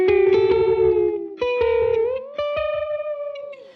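A sustained electric guitar note sweeps and warbles through a Blank Electronics Reaching ambient delay pedal, with pitch-bending repeats and shimmering echoes trailing off, loud and up close.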